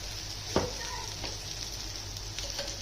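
Raja Rani fish frying in oil in a pan over a low flame, a soft even sizzle with a few light clicks of a utensil.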